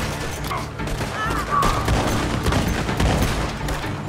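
Dense gunfire in the online Western shooter Red Dead Online, during a Call to Arms round at Crackwater, with rapid overlapping shots and bursts rattling continuously at moderate loudness.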